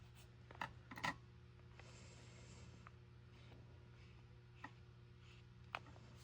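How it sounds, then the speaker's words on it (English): Pen writing a word on a paper bag junk journal page, faint soft scratching strokes over a steady low hum, with a few small taps. "Here I'm going to write family."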